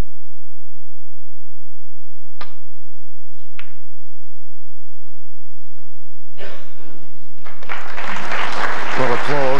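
Audience applause breaks out at a 1995 World Championship snooker semi-final after a safety shot. The hall is quiet at first, then the clapping swells loudly near the end while a commentator talks over it.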